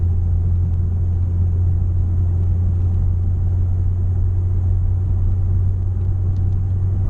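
Engine of a 2009 Lexus IS350 rumbles steadily while driving on rough roads, a deep low drone with road noise heard from inside the car, constant and close, without talk.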